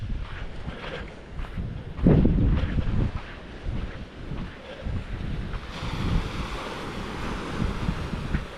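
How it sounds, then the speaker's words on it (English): Atlantic Ocean surf breaking on a beach beside the Wright Brothers National Memorial, a steady wash of waves with gusts of wind buffeting the microphone, a louder swell near two seconds, no voices. "This is, of course, the Atlantic Ocean."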